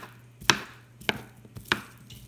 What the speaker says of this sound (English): Now cutting these in little hunks